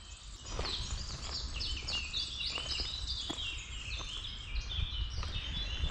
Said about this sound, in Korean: 새소리가 너무 잘 들린다